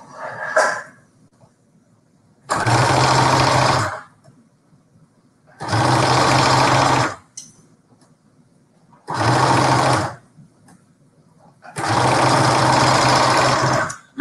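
A sewing machine stitches along the edge of a piece of fabric, running in four loud, steady bursts of one to two seconds each, with short quiet pauses between them.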